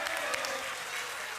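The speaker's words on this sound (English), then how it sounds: "we are clapping for you, Honorable Speaker" Parliamentarians in a parliamentary chamber applaud steadily, a dense, sustained clapping that fills the room without a break.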